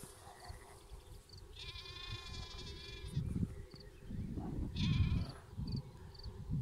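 Sheep bleat a few times out in a grassy field, two fairly faint, drawn-out calls standing out over a quiet outdoor background with soft rustling.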